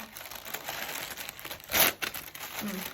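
Glossybox packaging being pulled open, a close crinkling and crumpling of paper with a brief louder tear in the middle.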